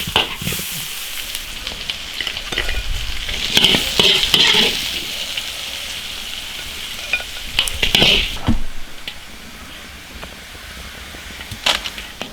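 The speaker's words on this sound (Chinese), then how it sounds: "蒜苗来一点，炒两下起锅" Fried fish with soy sauce and garlic sprouts being stir-fried in an iron wok, a steady close sizzle broken by sharp clanks and scrapes of the spatula against the metal.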